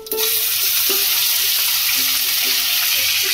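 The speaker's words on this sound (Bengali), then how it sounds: "পেঁয়াজ গুলো দিয়ে আমি 2 মিনিট ভেজে নেবো" Onions go into hot oil that already holds fried chilli and whole spices, making a continuous sizzle with light tapping clinks from stirring.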